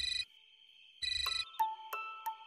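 An incoming call's phone ringtone sounds late at night in a Marathi TV serial scene: short repeated electronic chimes, followed by brighter tone bursts. The ringing is close and clear, with no voices.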